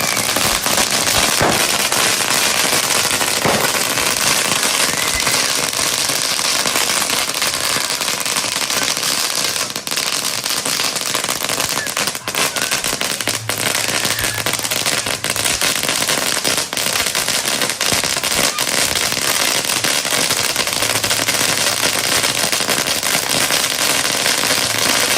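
A Christmas Eve fireworks display and firecrackers in Bacolod, a dense, unbroken barrage of crackling pops and bangs that stays loud and continuous throughout, with no voices.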